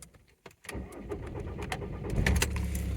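A cheap £500 used car that is slow to start: a brief pause, then the engine cranks and catches, building into a rising, steady rumble. It is heard close up with no speech.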